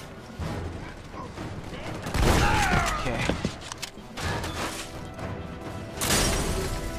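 Shotgun blasts and explosions from the video game Army of Two: The Devil's Cartel, loud crashing booms in a cluttered battle mix with mechanical clatter and a voice talking over it.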